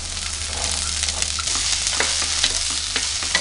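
Fresh green peas stirred and sautéed in hot oil for a restaurant-style vegetable curry, a steady close sizzle with scraping spoon strokes against the pan throughout, no voices.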